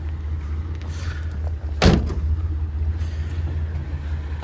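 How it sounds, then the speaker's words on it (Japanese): Hood of a classic Nissan Skyline Kenmeri with an L-series engine is opened, giving a single sharp clunk midway over a low, steady background hum. "じゃあちょっとボンネットの方もね、開けていきたいと思いますね。"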